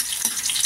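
A brief burst of sizzling and crackling from aromatics sautéing in a hot pan for chicken curry, close and fairly loud.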